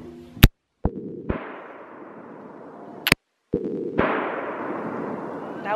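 Firearm shots fired outdoors during a gun safety lesson, two sharp loud cracks a few seconds apart, each followed by a ringing decay, with faint clicks of handling between them.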